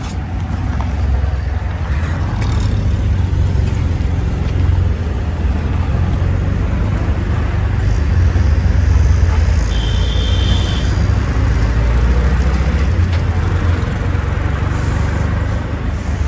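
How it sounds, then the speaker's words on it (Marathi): Steady low engine rumble and road noise from inside an auto rickshaw moving through traffic, continuous and fairly loud throughout, with faint passing vehicle sounds and no talk. "रिक्षामधून आता चाललो आपण"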